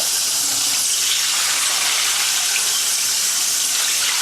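Tap water gushes steadily into a pot on the stove for boiling red potatoes, a continuous close hiss and splash with no talking.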